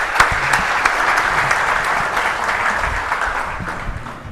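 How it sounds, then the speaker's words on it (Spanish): Audience applause at a church gathering: many hands clapping in a steady burst that holds for several seconds, then fades slightly toward the end, with no speech over it. "Un aplauso para ellos."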